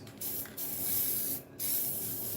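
Aerosol spray paint hisses onto a custom tire cover for a Toyota 4Runner in two long close bursts separated by brief pauses, a loud airy spray with nothing else heard.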